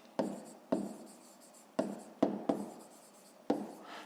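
Pen writing on paper during a school maths exercise: six sharp, distinct taps and scratchy strokes at irregular intervals, quiet and close, with no voice.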